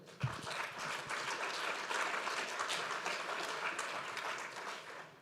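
Conference audience gives a warm, sustained round of applause, soft and somewhat distant, a steady wash of many hands clapping for several seconds without voices.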